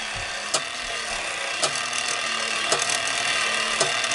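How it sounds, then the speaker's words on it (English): Motor of a vintage battery-operated toy trolley running with a steady mechanical whir, punctuated by four sharp clicks at roughly one-second intervals, close and moderately quiet. "Do you hear the motor?"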